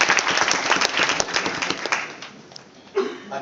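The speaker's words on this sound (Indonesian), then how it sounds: "Kita berikan aplaus dulu." Audience applause at a political gathering in Indonesia: a burst of many hands clapping that fades after a couple of seconds, leaving scattered claps and faint crowd noise.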